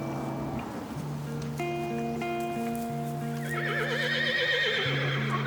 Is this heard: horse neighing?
yes